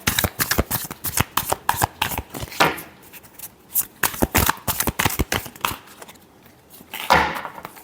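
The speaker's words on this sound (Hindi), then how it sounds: "सॉरी, एक शफल और करेंगे।" Tarot cards are shuffled in rapid bursts of crisp riffling flutters, close and clear, pausing briefly partway and ending with a final shuffle.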